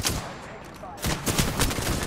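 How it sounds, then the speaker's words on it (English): Gunfire in the Apex Legends video game: short rapid bursts of shots, with a brief burst at the start and denser, louder firing through the second half. "Oh, they shooting at me."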